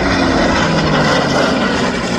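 An F-35A Lightning II jet engine at 25% range power during an airshow at Shellharbour, a loud, steady, broadband roar that holds constant throughout with no talk over it.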